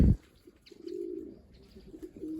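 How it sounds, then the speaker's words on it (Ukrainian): Racing pigeons at a competition give soft, low, rolling coos close by, with a brief thump at the very start and faint chirps above. "Це скоросні голуби,"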